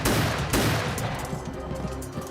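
Animated pirate ship battle gunfire: loud, dense volleys of rifle shots crackling continuously at close range, with no talk over the blasts.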